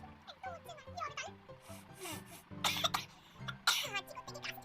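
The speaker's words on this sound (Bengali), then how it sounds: "হাঁচি করতে কি কাশি চলে আসছে" Someone coughs while trying to sneeze, with several short bursts under a nearby voice that talks in between.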